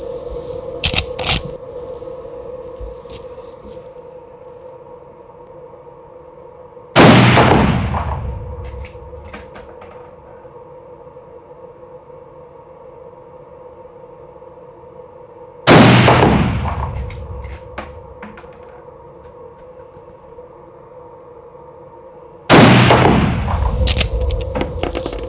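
Three loud, sharp rifle shots at an open-sight shooting competition, spaced several seconds apart outdoors, each with a ringing decay, over a steady background hum.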